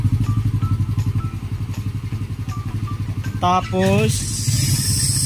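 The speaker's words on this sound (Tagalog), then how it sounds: "Nakatapos na tayo sa ating refresh ng Mio Sporty na aking brother. Ayan, testing nga. Andar." A freshly rebuilt Yamaha Mio Sporty scooter engine with a new piston idles close by with a steady, even putter, then revs briefly with a rising whine; someone says a word over it.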